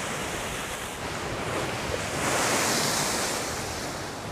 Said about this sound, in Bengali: এখন বর্ষায় বিরাট ঢেউ